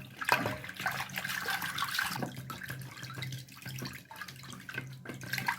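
A buttermilk mixture for kadhi is churned with a churner, giving continuous wet sloshing and splashing. The liquid swirls and surges unevenly at close range, with no talk over it.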